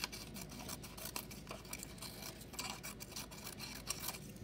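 Scissors snip through paper to cut out dog shapes, a busy run of small crisp cuts and rustles close up, fairly quiet and steady, with no voices.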